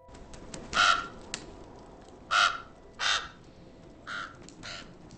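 A crow caws five times at irregular intervals, harsh, clear and moderately close, with quiet background between the calls.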